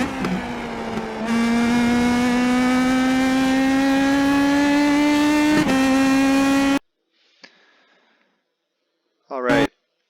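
An IndyPro2000 open-wheel race car in the iRacing simulator at Laguna Seca screams at high revs, its pitch climbing steadily, dropping at an upshift and rising again before cutting out. Quiet follows, then a brief rev burst near the end.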